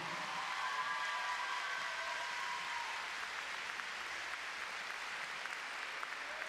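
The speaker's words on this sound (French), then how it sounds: "vous pouvez faire un tonnerre d'applaudissements pour Paul Arthur Crépin-Lafont" Crowd applause for a pony rider at an indoor show jumping derby in Bordeaux, a faint, distant, sustained wash of clapping in a large arena with a brief tonal whine early on.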